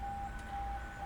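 Fire station alarm siren sounding from across the street, a faint steady high tone held throughout a short moment, distant and alone.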